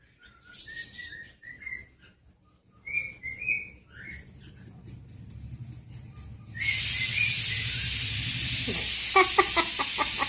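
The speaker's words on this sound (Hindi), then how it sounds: "सीटी बज रहा है" A whistle sounds in short, shrill, rising and falling bursts through the first few seconds. It is then swamped by a loud, steady hiss with scattered clicks.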